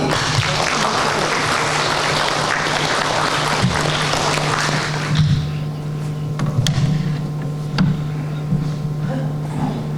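An audience at an award ceremony for municipal utility workers applauds in a dense, steady wave that thins out about halfway through into scattered claps and a lingering hum.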